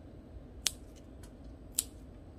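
Two crisp scissor snips cutting Phalaenopsis orchid flower stems, spaced about a second apart, close by over a soft steady background hiss.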